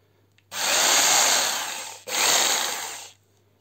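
An RZTK AJ 1050 electric jigsaw switches on twice, each run a loud close motor whine of about a second and a half with a brief gap between and quiet before and after.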